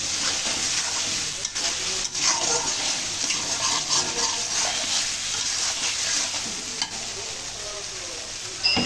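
A spiced curry base is stirred and fried in a pan, giving a continuous loud sizzle with scraping stir strokes throughout.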